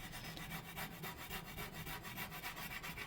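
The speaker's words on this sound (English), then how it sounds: "that's going to take a long time to scrape that off" A scraper rubs rhythmically and quietly over a Maytag cooktop stove, working off silicone-like sealant residue in short repeated strokes.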